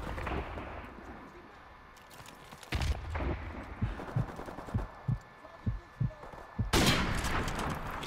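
Sniper rifle fire in a Call of Duty video game: two sharp, loud reports stand out among a series of softer, rhythmic thuds and quieter game sounds, with a low background bed throughout.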